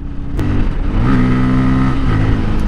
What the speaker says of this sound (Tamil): அந்த ஒரு கியர் நம்ம டவுன் பண்ணிட்டு அப்படியே இழுக்கிறோம் பாருங்கள்